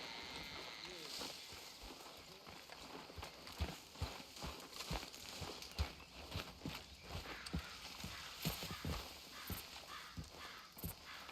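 Horse hooves clip-clop at a steady walking rhythm in the Western video game Red Dead Redemption 2, fairly quiet and mixed with ambient outdoor sounds, while voices talk over them.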